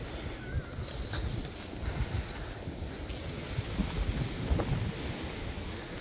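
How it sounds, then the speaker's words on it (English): Wind buffets the microphone on a Somerset hilltop, a steady low roar with gusty swells throughout, no voices. "I bet it's always windy up here as well."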